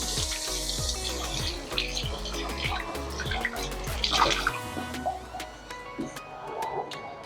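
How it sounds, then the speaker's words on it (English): Hands washed under a running kitchen tap during jerk chicken prep: a steady close splash of flowing water with sloshing and rubbing, the stream cutting off partway and leaving scattered drips and small clinks. "Let me wash my hands."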